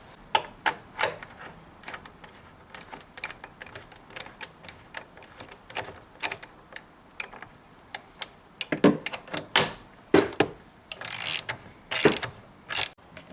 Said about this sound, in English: the last piece is I got to connect the battery clamp hold down device